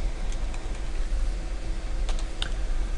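Close keystrokes on a computer keyboard, a few soft clicks, then a quick burst of taps over a constant fan hum.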